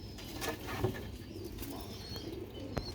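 Sialkoti pure chhat pigeon chicks give soft, low cooing over a steady background hum, with a brief flutter partway through.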